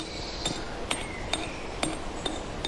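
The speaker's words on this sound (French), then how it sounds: "Le tintement des ciseaux et des marteaux se mit à résonner dans la carrière" Metallic clinks of hammer striking chisel ring out at a steady, even pace, about five sharp taps over faint outdoor ambience.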